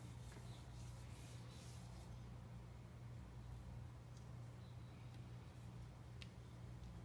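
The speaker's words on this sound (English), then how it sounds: "You don't want it to be streaky, so you rub it a lot" Linseed oil and iron oxide finish being rubbed onto a Nagant rifle stock by hand, a faint, steady rubbing texture over a low constant hum, with no talking.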